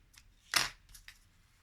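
Scissors cut a length of thread while a handmade card is being put together, one sharp, close snip standing out against quiet, with a couple of faint rustles on either side.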